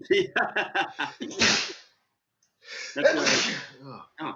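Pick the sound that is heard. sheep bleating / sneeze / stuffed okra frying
sneeze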